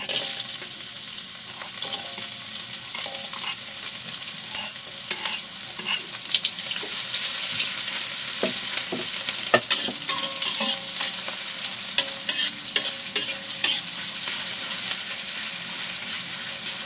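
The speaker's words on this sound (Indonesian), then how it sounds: "Nah, ini kita tumis dulu bawangnya." Onions stir-fried in a pan, a continuous bright sizzle with scraping and clacking from the spatula, close and steady throughout, no talking.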